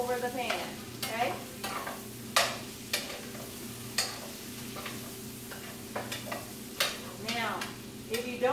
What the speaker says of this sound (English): Now, mix that around because I want my pan to have butter all over the pan